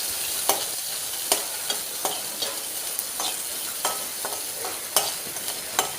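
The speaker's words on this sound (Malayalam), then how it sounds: "പിന്നെ ഉണക്കക്കൊഞ്ച് കഴുകി വെച്ചത് ഇട്ട് കൊടുക്കാം. എന്നിട്ട് നമുക്ക് നല്ലോണം ഇളക്കാം" Washed dried prawns stirred in hot oil in a pan, with a steady frying sizzle and repeated sharp scrapes and clinks of the spoon at an uneven rhythm.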